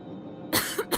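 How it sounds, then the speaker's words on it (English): A woman's short burst of coughing after a quiet moment: one harsh cough followed by two smaller ones, close and fairly loud. "She was coughing terribly now."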